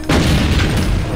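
A grenade in the Brutal Doom video game goes off as one loud, close, booming blast. A dense rumble fills the whole moment with no quiet gap.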